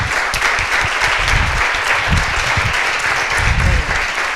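Audience applause at a tech meetup event, steady continuous clapping for several seconds, loud and close, with some low voices mixed in.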